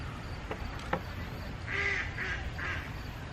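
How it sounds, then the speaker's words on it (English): Three short duck quacks come from a distance, faint against a soft outdoor background, with a couple of small clicks just before. "We got some ducks over there."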